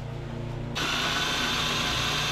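A power drill starts up and runs steadily at low speed, drilling out a stuck screw in a Piaggio Skipper 150 scooter engine; a continuous close whir with no talk.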